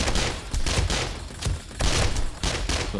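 Rapid bursts of automatic fire from a level 5 robot turret in 7 Days to Die, loud and close, in repeated clusters of shots with brief gaps between them.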